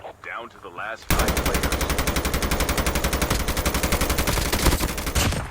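Sustained automatic gunfire in the video game Call of Duty Mobile: a loud, rapid, evenly spaced burst of shots runs for several seconds without a break, after a short moment of a voice speaking at the start.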